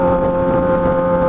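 A Yamaha XJ6 motorcycle's exhaust hums in a steady, loud, close drone with no break over a short stretch, mixed with some wind rush.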